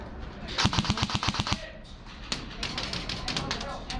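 Enemies in a multiplayer shooter game fire a rapid burst of about a dozen loud gunshots, followed by scattered further shots while players talk over the action.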